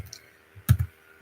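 A few clicks of typing on a computer keyboard while a browser address is entered: a light tap, then a louder pair of close keystrokes, near and sparse in a quiet room.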